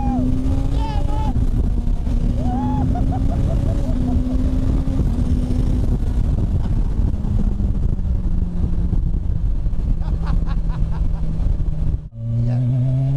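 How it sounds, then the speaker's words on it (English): A turbocharged Hayabusa motorcycle does a burnout with its rear wheel spinning, its engine holding a loud steady drone that rises and falls in pitch, and wind buffeting the microphone throughout. "Lighting up the back wheels, absolutely lighting it up."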